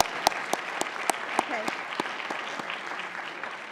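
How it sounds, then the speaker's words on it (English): Audience applause for a Harvard professor and former Kennedy School dean, sharp separate claps sounding steadily through the clip in a lecture hall, with a brief spoken word over it. "We can clap at that too."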